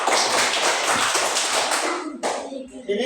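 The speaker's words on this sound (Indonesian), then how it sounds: "Ya, tepuk tangan." Students clapping their hands together in a classroom, a dense, loud burst of quick claps that stops abruptly, followed by one short flurry and some faint shuffling.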